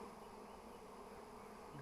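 A swarm of honeybees flies around a hive log as they are settled in, a continuous, dense buzzing hum at low level, steady throughout, with no voices.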